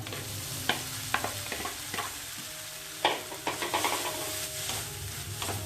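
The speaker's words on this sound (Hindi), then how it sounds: "क्योंकि हम इसमें मावे को भूनेंगे।" Mawa (milk solids) roasting in ghee in a kadhai: a soft, continuous sizzle broken by repeated scraping and tapping strokes of a spoon stirring the pan.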